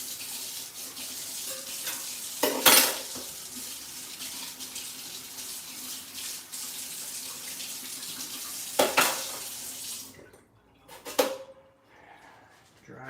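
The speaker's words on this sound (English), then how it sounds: "let me wash these things one more time" Cookie decorating utensils washed under a running kitchen tap: steady splashing water, louder bursts as items pass through the stream and clatter against the sink, then the flow cuts off, leaving a few wet clinks and handling noises.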